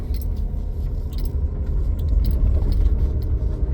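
A car rolls slowly over a freshly repaired street. A low engine and road rumble runs underneath, with light rattling and jangling from inside the cabin.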